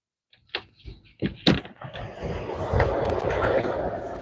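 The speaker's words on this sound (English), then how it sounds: "you want to open the door?" A door opens with a few clicks and thumps of the latch and handle, then a steady rush of outside noise pours in as it swings open.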